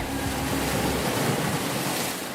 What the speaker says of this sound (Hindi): इस समुद्र का तो दूर दूर तक कोई अंत ही नहीं है।